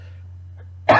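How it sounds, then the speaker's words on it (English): A single harsh, close cough bursts out near the end after a quiet stretch, loud and raspy, from a man with a lingering, nagging cough. "Still have this nagging cough"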